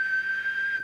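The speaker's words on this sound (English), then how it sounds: "We'll just do the whistle test here." A steady, pure single-tone whistle rings out for nearly a second as a whistle test on a York JCB863 CB radio, even in pitch and level before cutting off abruptly.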